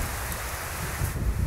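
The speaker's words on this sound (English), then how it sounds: "I don't know when will this rain stop again." Steady broadband hiss of rain falling, with a low rumbling wash underneath and no voices.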